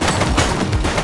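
Gunfire in The Precinct, a police video game set on city streets, forms a dense, loud burst of shots filling about a second with no pauses.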